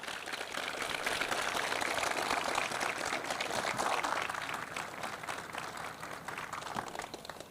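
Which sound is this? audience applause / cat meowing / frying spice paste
audience applause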